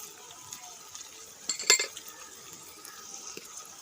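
A spoon stirs spices, salt and red chilli into liver in a pan for kaleji matar, giving soft, quiet scraping with a brief cluster of metallic clinks midway.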